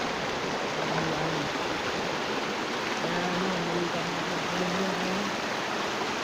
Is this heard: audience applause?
no